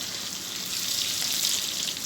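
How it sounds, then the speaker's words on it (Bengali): Cumin seeds crackle and hiss steadily in very hot oil, heated in a clay stove, a dense, even sizzle held close and constant with no voices. "আর এই যে তেলের ভিতরে দিয়ে দিলাম জিরা ফোড়ন"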